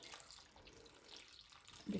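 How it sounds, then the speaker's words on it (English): Water runs from a tap into a big cooking pot of vegetables, a faint soft trickle and splash that rises a little louder at the end. "Actually, just going to add a bit more water in there"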